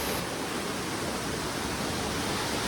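Dense, constant roar of an upper waterfall, a steady broadband rush filling the whole stretch with no pauses and no voices.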